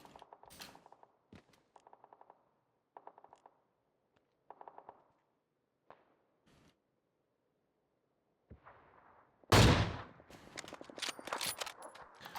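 Gunfire in a shooter video game: a few short bursts of rapid shots at moderate distance, then a loud close blast followed by a heavy volley of shots.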